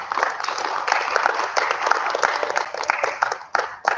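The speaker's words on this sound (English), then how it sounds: "So a huge round of applause for these kids." Audience applause for a group of students, including a girls' blind cricket team, fills the room with dense, steady clapping throughout before it starts to thin out near the end.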